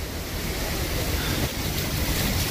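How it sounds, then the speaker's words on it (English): Water pours down the stone stairs beside the large El Pailón del Diablo waterfall, a loud, constant rushing wash with no break and no voices. "there's water coming down the stairs"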